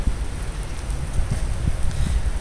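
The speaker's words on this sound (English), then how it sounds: "Oh, it's raining out." Rain falls steadily outdoors beside a Metra commuter line in Buffalo Grove, a broad, even hiss with soft low rumble and occasional drips close by, no voices.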